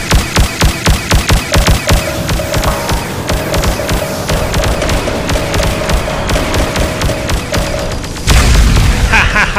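A missile shot down in the space combat game DarkStar One, heard as a string of rhythmic weapon booms and an electronic tone that end in one loud explosive blast.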